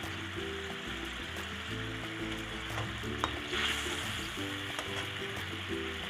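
Katla fish pieces simmer in a curd gravy with a soft, continuous sizzle and a light bubbling hiss, close but quiet, with no talking.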